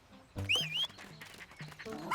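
A dog in the video game Pikmin 4 is sent off, giving short game-style barks, yips and whimpering chirps in quick bursts, close and clear, with no talking over it.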